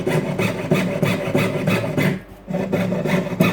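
A hand saw rasps through a metal amulet frame in quick, even back-and-forth strokes, with one brief pause partway through before the sawing resumes.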